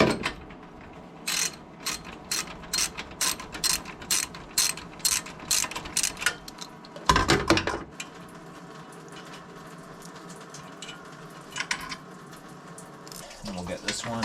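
A ratchet loosens a 10 mm bolt on a Geo Tracker during a radiator swap, giving rapid, evenly paced clicking bursts for about seven seconds, then a heavy clunk and quieter handling noises.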